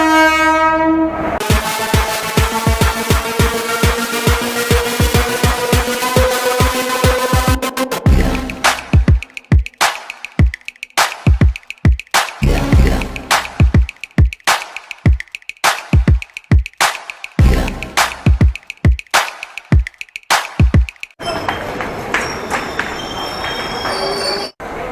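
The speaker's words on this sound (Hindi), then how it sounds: "फाइनली अपनी ट्रेन आ चुकी है" An Indian Railways passenger train pulls into the station, wheels squealing and clattering in a loud rhythmic run of clicks over the rail joints, with a horn blast near the start.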